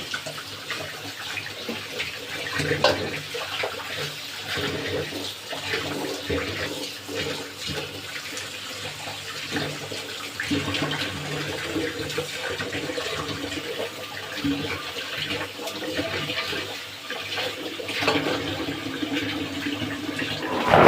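Tap water runs steadily while raw chicken pieces are rinsed in a household kitchen, a continuous splashing flow with small surges throughout.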